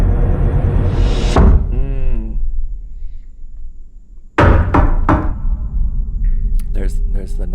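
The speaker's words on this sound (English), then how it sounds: "There's the knock." A knock on a cabin door from a thriller movie trailer sounds as a few sharp, loud raps near the middle, with a dramatic swell and other trailer sounds around it.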